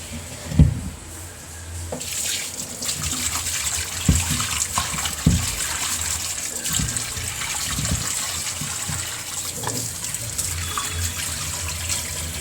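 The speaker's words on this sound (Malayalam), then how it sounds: "അപ്പോൾ നമ്മളിങ്ങനെ ഉപ്പിട്ട് കുറച്ച് നേരം ഇങ്ങനെ വിരവി കഴുകും." Fish being washed in water with salt for a fish biryani, a continuous splashing and running-water wash with occasional knocks and rubbing sounds, close and moderately loud, with no speech.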